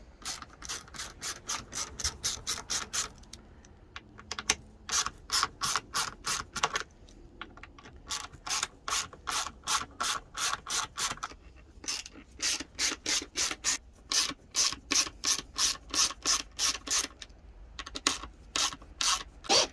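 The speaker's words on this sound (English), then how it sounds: "So we're gonna remove these screws and switch them to the other side." Torx T20 screws are backed out of a Dometic CRX50 refrigerator door with a ratcheting screwdriver, giving loud, rapid clicking bursts in runs separated by brief pauses, close up and with no talking.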